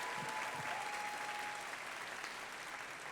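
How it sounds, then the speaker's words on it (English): Audience applause fills the room at an event, a steady dense clapping from a crowd that holds at even loudness throughout with no talk over it. "if we can just applaud those who are here"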